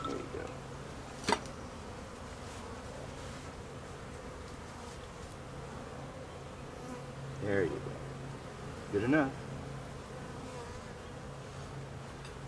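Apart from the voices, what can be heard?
honeybees buzzing during hive installation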